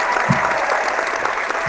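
Crowd applause at a WWE Monday Night Raw event, a dense steady wash of many hands clapping at some distance, continuing evenly throughout.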